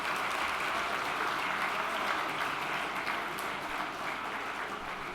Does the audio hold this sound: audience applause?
yes